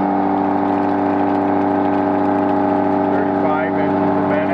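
Milling machine cutting at 831 RPM and 35 inches a minute with a 90-degree cutter on a Pinnacle mill, a loud steady tonal whine that holds even throughout, with a voice faintly present under the machining.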